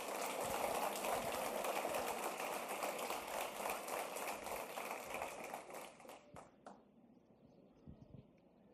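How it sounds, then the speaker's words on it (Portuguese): A church congregation claps together in a sustained, fairly distant round of applause that fades out toward the end, leaving a quiet room. "Pode dar um aplauso a Jesus por isso?"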